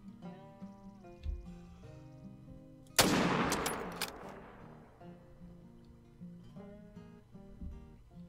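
A single loud gunshot cracks out while hunting in theHunter: Call of the Wild, then rings off in a decaying tail over soft background music that plays throughout.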